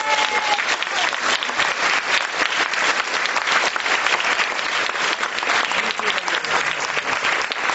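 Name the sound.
audience applause for the council chair's introduction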